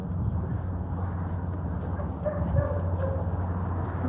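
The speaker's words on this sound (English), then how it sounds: "Fucking dogs everywhere, bro." Dogs bark in the distance on an urban street in Carson City, faint yips and woofs buried under a steady low outdoor rumble.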